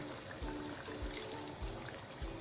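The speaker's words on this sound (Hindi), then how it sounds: "थोड़ा सा इसमें हम पानी ऐड करेंगे, ज़रा सा ऐड करना है, बस ज़्यादा नहीं।" A small splash of water trickles into yogurt-based smoky dahi chicken cooking in a pan, a brief soft pour with light sizzling and bubbling, close and fairly quiet.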